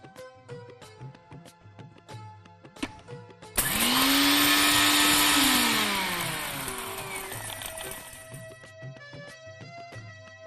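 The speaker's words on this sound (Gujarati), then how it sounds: "જો આજે વધ્યું એને ફરીથી મિક્સરમાં લઈ અને ફરીથી ક્રશ કરી દો" A kitchen mixer grinder loudly crushes leftover coarse flour mixture for a few seconds, its motor whirring up to full speed and then winding down, with a quiet stretch of household sounds before it starts.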